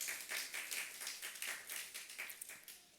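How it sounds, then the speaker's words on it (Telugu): A church congregation at a Good Friday worship service in Guntakal claps together in a quick, steady rhythm. The sound is faint and distant. "గట్టిగా చప్పట్లు కొడదాం"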